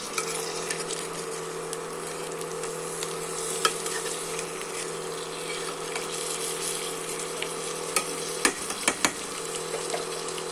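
Palak paneer being stirred in a cooking pan, giving a steady soft sizzle with a faint scraping texture and a few light clinks of the utensil near the end, with no talking.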